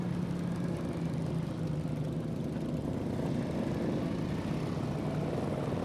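An old classic motorcycle with no self-starter, its engine running after a kick-start at an outdoor classic bike show, a steady, dense mechanical drone at moderate distance with a continuous buzzing texture.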